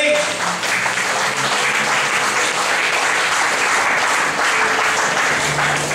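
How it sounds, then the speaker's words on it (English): A church congregation claps in praise, a loud, sustained burst of many hands clapping together that stays full and steady for several seconds, with no speech over it. "Can we give the Lord the best clap of praise?"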